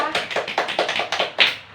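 A small group claps for two students in a microteaching classroom, a quick run of roughly a dozen close, fairly loud hand claps in an even rhythm, with one sharper clap near the end and no talking.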